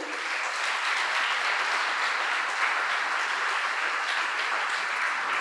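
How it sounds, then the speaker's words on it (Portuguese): A church congregation claps in praise, a dense, loud, continuous wash of applause from many hands that holds steady for several seconds without a break. "dê um forte aplauso ao Senhor."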